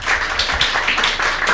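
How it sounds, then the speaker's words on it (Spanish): An audience at an academic laboratory conference on hemostasis claps in a short, brisk burst of applause. "Un fuerte aplauso, por favor."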